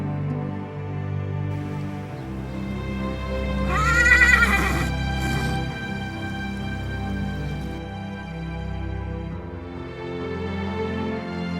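A Haflinger horse gives a loud whinny partway through, set against a steady low background hum, followed by a quieter trailing call.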